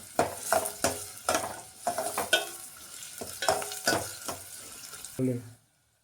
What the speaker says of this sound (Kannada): ಒಂದು ಪಲಾವ್ ಎಲೆ ನೆಕ್ಸ್ಟು ಈರುಳ್ಳಿ ಬರೋ ತನಕ ಫ್ರೈ ಮಾಡಬೇಕು